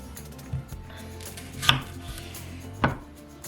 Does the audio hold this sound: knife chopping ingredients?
yes